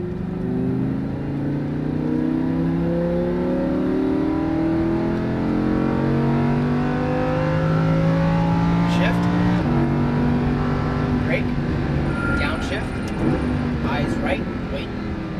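A Lamborghini Huracán engine revs and climbs hard under full throttle on a racetrack, loud and continuous, with rising harmonic whine and brief shifts in pitch.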